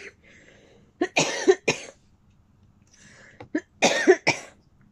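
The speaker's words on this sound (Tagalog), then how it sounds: "May ubo talaga. Masama pakiramdam ko ngayon eh." Two bursts of harsh coughing, each a quick cluster of two or three coughs, close to the mic with quiet pauses between.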